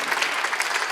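A church congregation at a Sunday worship service bursts into dense, even applause, a brief wash of many hands clapping together at close range with no speech over it.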